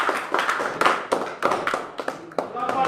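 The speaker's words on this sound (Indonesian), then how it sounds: "tepuk tangan untuk kelompok 1" Classroom applause for a presenting student group, a short burst of uneven, close hand clapping from a small group of people.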